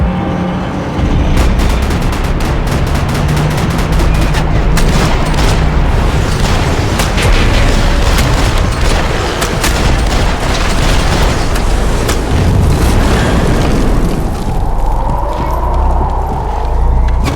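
Gunfire and explosions in the video game Max Payne 3, a loud, dense barrage of rapid shots and heavy booms running almost the whole time, easing into quieter rumble near the end.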